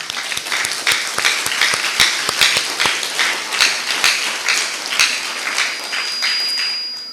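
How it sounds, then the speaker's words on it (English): An audience at an 8th grade graduation ceremony in Pohnpei applauds the graduates' parents and families, with dense, steady clapping that holds for about seven seconds before tapering off, with no talk over it. "let us give the parents and families of the graduating class a round of applause"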